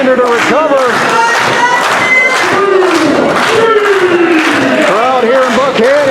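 A wrestling crowd in Buckhannon cheers and chants loudly for Dustin Alexander during an RSW championship match, in rising and falling waves of voices and shouts with scattered claps, all close and continuous.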